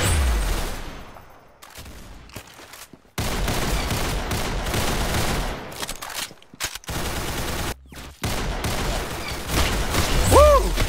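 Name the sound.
rapid gunshots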